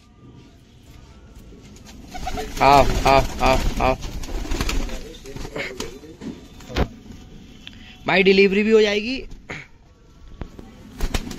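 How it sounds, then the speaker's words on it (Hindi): Fighting pigeons kept for sale give deep rhythmic coos in bursts, with a loud flurry of calls and wing noise later, while someone talks over them in a nearby loft. "और सारे कबूतर देखिए आप, अच्छे कबूतर हैं।"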